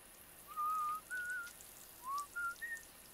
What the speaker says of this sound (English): Whistling while she works.